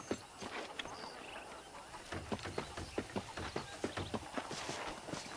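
Horse hooves clip-clop steadily at a walking pace in the Red Dead Redemption Wild West game, a regular near rhythm of hard hoof strikes over faint ambient background.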